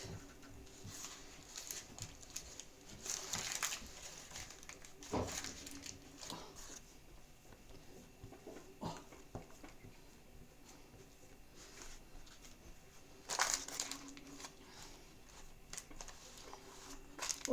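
Steady light patter of rain falling outdoors, soft and continuous with occasional faint knocks and clatter mixed in, no talking over it.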